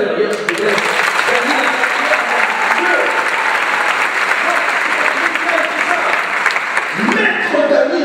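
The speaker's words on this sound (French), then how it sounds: "Je voudrais qu'on donne une bonne applaudissement à Dany Laferrière, s'il vous plaît." Audience at a Haitian comedy show applauding steadily for the whole stretch, a loud dense wash of clapping with some crowd noise, a host's voice coming in briefly near the end.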